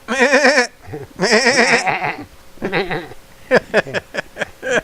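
Goats bleat loudly and close by, with long wavering cries followed by a quick series of short, choppy bleats.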